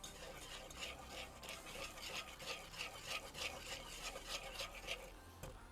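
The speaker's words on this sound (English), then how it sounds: "The trick is just to keep on whisking it." A whisk stirs beer cheese in a pot with continuous, rhythmic scraping and swishing strokes close up, steady and fairly quiet throughout.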